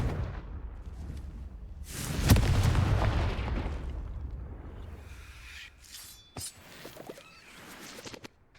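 A Confringo fire spell in a video game erupts into a loud, booming blast with a long rumbling tail, followed by sharper cracks and pops as it fades.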